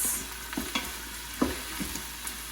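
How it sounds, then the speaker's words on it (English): Shallots sauté in an Instant Pot for shrimp risotto, a soft steady sizzle with a few light stirring knocks and scrapes, fairly quiet and close. "I'm going to let those shallots saute probably for about 2 minutes"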